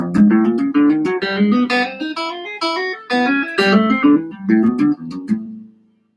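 A guitar finger exercise using the index and pinky, played as a steady run of single picked notes climbing and falling, clear and close with no voices.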